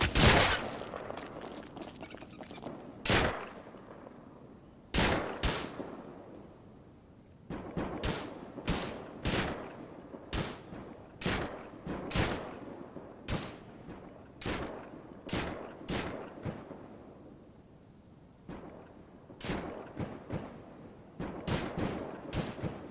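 Repeated gunshots ring out in bursts from a raid on a base compound in the video game Rust, sharp cracks spaced irregularly with fuller volleys over steady background ambience, no talking.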